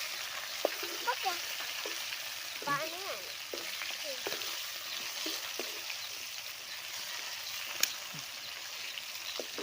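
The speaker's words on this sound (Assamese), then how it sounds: "ভাজি কৰি আছোঁ" Potatoes frying in a pan, a steady close sizzle and crackle with occasional stirring scrapes and faint voices in the background.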